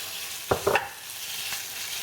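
Bacon sizzles in oil with a steady crackling hiss, broken by a couple of sharp clanks and scrapes of stirring near the start.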